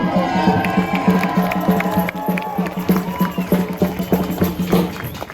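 A crowd at a Palestinian children's march at Central Library, Cardiff, Wales, cheers and claps in a steady rhythm, with voices shouting over the noise, loud and close by.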